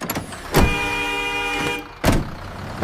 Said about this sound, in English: The bus is here. It is outside our house.